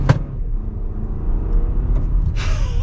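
A 2023 Toyota Highlander Platinum pulls away under heavy throttle in sport mode, a low rumbling engine drone heard from the cabin, steady and moderately loud, with a brief hiss near the end.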